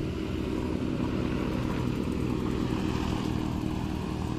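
A motorcycle speeds past on a riverside boulevard in Iloilo, its steady engine drone loud and continuous throughout, with no voices.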